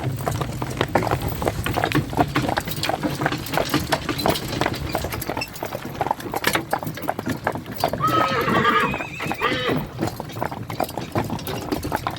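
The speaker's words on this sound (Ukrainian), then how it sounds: "годує коні, вже йде ближче до весни" A stallion's hooves clop steadily with a whinny rising partway through, amid outdoor farmyard noise and some nearby human voices.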